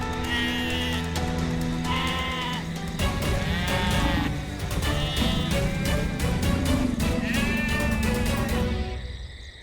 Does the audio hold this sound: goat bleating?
yes